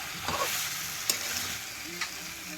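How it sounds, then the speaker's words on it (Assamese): Meat and vegetables frying in a pan at home, with steady sizzling under a spatula stirring and scraping against the pan, including a few sharp clinks, close and moderately loud. "এতিয়া ইয়াত দি দিলোঁ। ধুনীয়াকৈ লৰাই দিছোঁ।"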